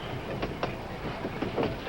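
A train rolls steadily along the tracks, a low continuous rumble with faint rhythmic clicks of wheels over rail joints throughout, no voices.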